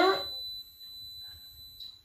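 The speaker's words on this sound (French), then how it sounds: "Un bip qui retentit, Borealia qui s'affiche ici." A Guy Demarle Borealia ice cream maker gives a single steady electronic beep at power-on, a clear high tone held across the clip after a brief louder noise at the start.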